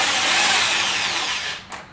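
Power drill spinning out a fairing bolt on a 2008 Yamaha R6 sitting on a wheel stand, a close, loud continuous whir that fades out near the end.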